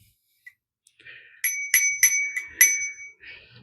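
A bicycle bell fitted to a TerraTrike EVO recumbent trike rings in a quick run of bright dings, one faint ping first, then four or five sharp strikes close by, the last note ringing out briefly.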